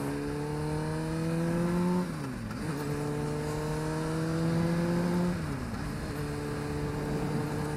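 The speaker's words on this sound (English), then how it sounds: "I can, like, hear myself switching gears" Motorcycle ridden on city streets, engine accelerating through gears with a steady rising drone that dips sharply at each of two shifts, then climbs again; close, loud, with wind rush and no talk.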